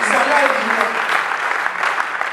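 A church congregation breaks into steady, loud applause that fills the space, clapping continuing throughout with some voices mixed in.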